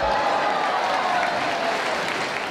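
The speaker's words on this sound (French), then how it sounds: "salve de rire et d'applaudissements" A theatre audience breaks into steady applause mixed with crowd noise, a dense continuous clatter of clapping at fairly loud level throughout, with no laughter clearly standing out.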